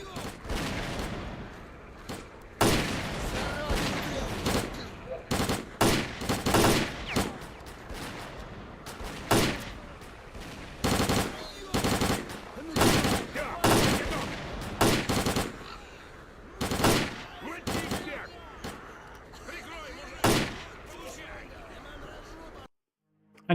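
Repeated bursts of automatic gunfire in the S.T.A.L.K.E.R. Clear Sky video game, loud irregular volleys of varying length spread across the stretch, separated by short quieter gaps, with faint background chatter.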